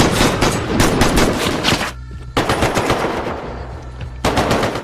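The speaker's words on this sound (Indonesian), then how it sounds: "Aksi baku tembak itu membuat pergelangan tangan Nick tertembak karena posisinya yang newel" Automatic weapons firing in a film shootout between former soldiers turned robbers: loud, dense machine-gun bursts in long runs, broken by short lulls before firing resumes.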